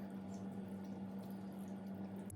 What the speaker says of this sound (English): And cover them with water.